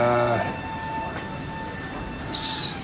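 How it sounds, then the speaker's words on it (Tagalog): A train rolls past toward Osaka with a steady rumbling roar and rail noise, a brief horn-like tone at the start and a high wheel squeal near the end. "Oh, kita mo, ang ganda ng tren. Papunta na Osaka."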